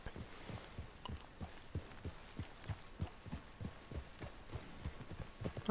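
A horse walks at an even pace in the video game Red Dead Redemption 2, its hooves clip-clopping in a steady, regular rhythm, close and fairly clear over a low ambient hum, with no talking.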